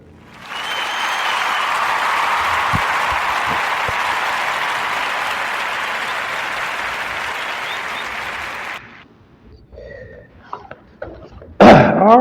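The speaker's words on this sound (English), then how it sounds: "podcast round of applause for Miss Lauryn Hill." A podcast audience gives a loud, sustained round of applause for Lauryn Hill, steady for about eight seconds before cutting off, followed by a few faint scattered knocks.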